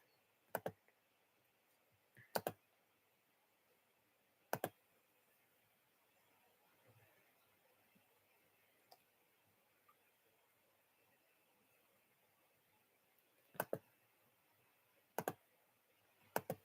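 Sparse sharp taps on a phone, a few isolated clicks and short double clicks spread over a long quiet stretch, faint and close against low background hiss.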